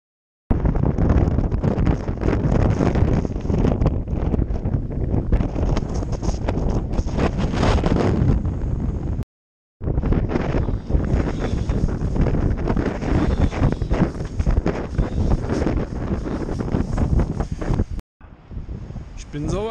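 Strong wind buffets a microphone on coastal dunes by the sea, a loud, rough roar that runs almost without a break and cuts out twice briefly; someone speaks under the gusts.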